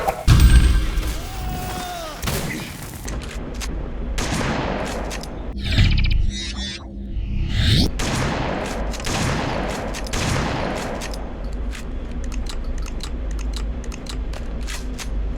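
Shotgun fire in a first-person shooter video game, with a series of loud booming blasts and heavy impact thuds hitting enemies, spaced irregularly over dense game action noise.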